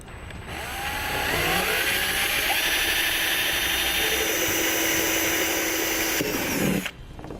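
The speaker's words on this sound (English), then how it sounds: "I'm going to come back with a 1/4 inch drill and I'm going to drill through the two marks that I made." A 1/4 inch drill bores through the body of a 2014 Jeep Wrangler, spinning up and holding a steady high whine for about six seconds before stopping, close and alone.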